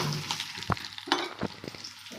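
Dried red chillies frying with spices in a dry pan for masala powder, giving faint crackling and scraping from a few stirs, with no voices.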